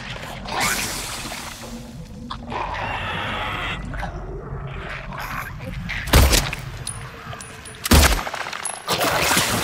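Enemy gunfire in Silent Hill 2 Remake comes as sharp, loud shots around the six- and eight-second marks and again at the end, over an eerie, rumbling ambient background.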